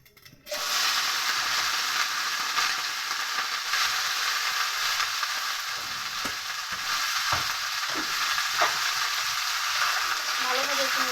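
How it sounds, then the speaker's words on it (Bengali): Cut cabbage and potato land in hot oil with five-spice seeds, bursting into a loud, close, sustained sizzle with occasional stirring clatters. "এবার আমি কেটে রাখা বাঁধাকপি আর আলুটা দিয়ে দিচ্ছি।"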